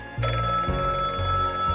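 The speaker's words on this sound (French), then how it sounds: "Le téléphone sonne" A telephone rings in a home on avenue Foch, a loud, steady bell-like trill that carries on without pause over a low background hum, with no voices.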